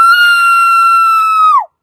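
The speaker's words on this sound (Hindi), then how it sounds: "एक बार और चिल्लाओ" A woman gives a long, loud, steady scream on cue during a late-night shoot, close and alone, held evenly before dropping off sharply at the end.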